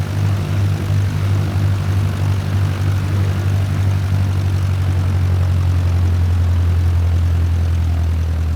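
Cessna 152 piston engine and propeller running at full takeoff power in Microsoft Flight Simulator 2020, a loud steady low drone with a constant hum throughout.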